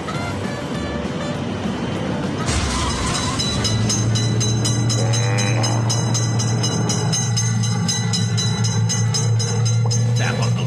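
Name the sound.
train passing railroad crossing in a train simulator video game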